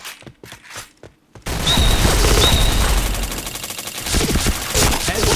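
Rapid bursts of automatic gunfire from a first-person shooter game ring out loud and close, a fusillade following a few quieter clicks and thuds, with a faint voice briefly in the background.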